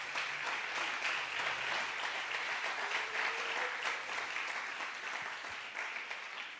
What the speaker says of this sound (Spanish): ¿Por qué no le damos un aplauso al Señor por la iglesia?